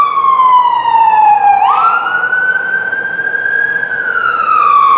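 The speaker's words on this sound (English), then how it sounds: "that's an ambulance going by because we are right next to a level one trauma center" An ambulance siren passes near a level one trauma center in Dayton, Ohio, its loud, steady wailing tone sliding and shifting pitch as the vehicle goes by, with no voices over it.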